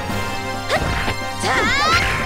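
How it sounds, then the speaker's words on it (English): Ice-shattering attack from the Xenogears video game: sharp crashing smashes and whooshing swipes in quick succession, with a glassy, ringing burst near the end, loud and close. "I will create ice around you and then shatter it."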